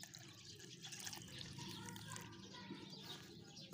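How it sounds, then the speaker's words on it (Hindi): Plain water from a bottle is poured into crushed garlic, a soft, steady trickling and splashing heard close up and fairly quiet, with no talk over it. "ये जो पानी की बोतल सादा किस्म की रखी थी, इसको हमने इसके अंदर ऐड करना है।"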